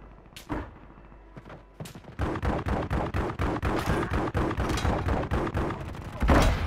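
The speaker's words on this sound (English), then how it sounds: "I'm shooting my shotgun" Shotgun blasts in Call of Duty ring out in a rapid string of about a dozen loud, close booms after two sparse opening shots, ending in a heavier final blast.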